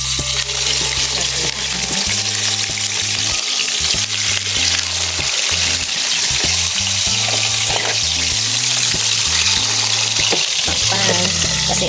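Garlic sizzles and fries steadily in hot oil for a home-style kare-kare dish, a dense continuous crackle holding at an even, fairly loud level with occasional stirring throughout.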